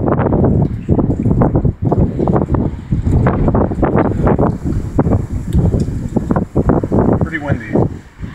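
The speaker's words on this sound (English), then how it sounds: "pretty windy." Strong wind buffets the microphone outdoors during a car battery terminal repair, a loud continuous rumbling roar with gusty bursts and someone talking underneath.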